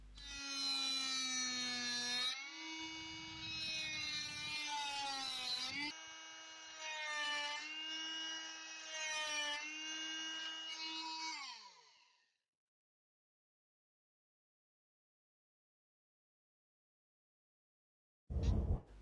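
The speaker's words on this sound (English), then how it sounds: "with the help of this trimming tool you can make a rectangular recess" HILDA 220V 280W electric oscillating multi-tool trimming laminate: a loud, steady, high-pitched buzzing whine that runs for about twelve seconds with a few shifts in pitch, then falls silent before a brief burst near the end.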